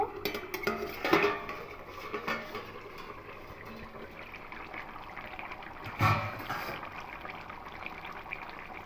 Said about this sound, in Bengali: এবার ঢাকাটা খুলে নেব